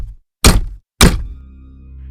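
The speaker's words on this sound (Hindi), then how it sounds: "मैंने अपनी बालकनी के बाहर की तरफ से दरवाजे पे खटखट की आवाज़ सुनी।" Two heavy knocks strike a balcony door, loud and close, a single thud followed half a second later by another, with a faint hum lingering after.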